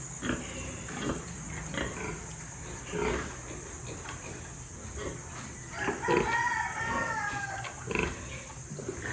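Pigs grunting and squealing on a piglet farm with newborn piglets, mixed with a rooster crowing in the background; repeated close grunts and a louder squeal burst near the end over steady farm ambience.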